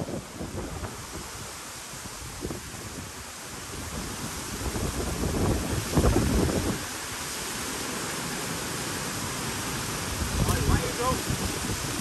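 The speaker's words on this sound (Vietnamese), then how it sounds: "Gió quá trời" Strong wind gusts buffet the microphone outdoors in a rural field setting during a fishing trip, a constant roaring rush that swells around the middle and again near the end.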